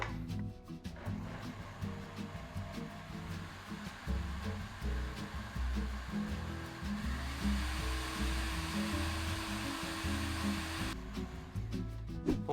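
A blender whirs through overnight oats with blueberries and banana, a steady close motor drone that runs for most of the stretch and stops near the end.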